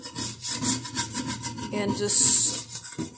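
A skillet coated with Easy Off oven cleaner scrubbed with a scrubber, quick back-and-forth rasping strokes up close, with a few brief spoken words in the middle.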